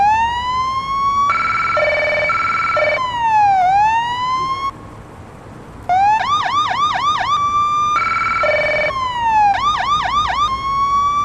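A loud electronic Federal Signal Omega 90 police siren in the video game Police Simulator: Patrol Officers cycles through wailing sweeps, rapid yelps and steady tones, with a brief quieter gap midway; no talking.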